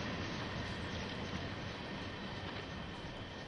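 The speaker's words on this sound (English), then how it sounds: "There goes my train." A train passes close by in a loud, steady rumble with wheel noise and a faint clickety-clack, holding constant for a few seconds.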